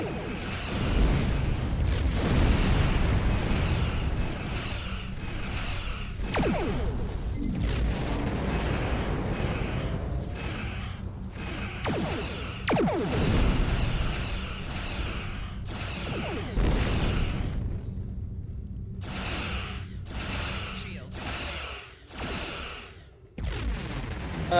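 Starship weapons fire and explosions in Star Trek Online, a steady barrage of booming blasts and whooshing shots that continues almost without pause, loud and dense, with brief gaps near the end.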